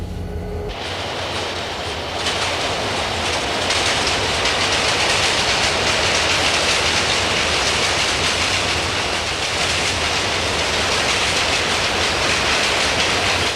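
A freight train with boxcars rolls past close by, a loud continuous roar of rumbling wagons and clattering wheels building after a brief quiet start.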